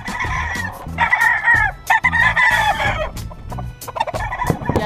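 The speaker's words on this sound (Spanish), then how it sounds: "Más de 30 gallos tengo a mi alrededor, señores." Dense, overlapping crowing and clucking from a large crowd of more than thirty roosters at a cockfighting venue in Michoacán, loud and close throughout with no talk.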